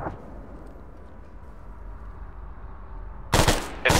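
Two short bursts of rapid gunfire ring out loud and close near the end, following a few seconds of low, rumbling background noise with no speech.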